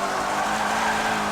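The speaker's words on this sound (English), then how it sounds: "I just lost all my control, and I'm going to smash into the wall" A race car in Forza 7 loses grip and skids toward a wall, its engine drone and tire squeal blended into one loud, continuous burst with no talking.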